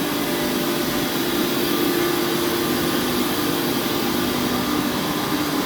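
A 4.5 million BTU thermal fluid heater that warms thermal oil through a burner coil roars with a steady, loud broadband rush and hum, unchanging throughout.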